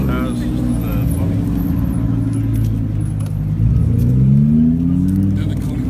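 A powerful Koenigsegg supercar engine rumbles and revs nearby as it drives by, its pitch rising and falling steadily over several seconds, with crowd chatter in the background.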